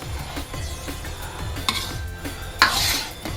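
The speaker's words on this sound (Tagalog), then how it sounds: "Haluin nyo lang siya habang kumukulo para hindi dumikit yung sa ilalim." A utensil stirs and scrapes inside a pot of boiling dinuguan stew, with soft sizzling, clinks against metal, and a louder scrape near the end.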